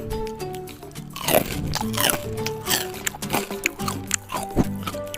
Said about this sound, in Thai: เดี๋ยวผมมาชิมให้ฟังเสียงนิดนึงนะครับ ว่าความกรอบของหมูกรอบเราเนี่ยกรอบแค่ไหนนะครับ